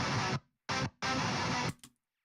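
Heavily distorted electric guitars from a soundtrack track chug out a stop-start rhythm, three loud dense bursts split by sharp silences, ending in a short clipped stab.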